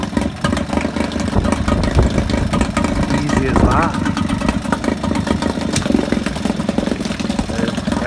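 A vintage Yamaha 3.5hp air-cooled outboard motor runs steadily at a loud, close idle, its low engine drone continuous throughout while someone speaks briefly over it.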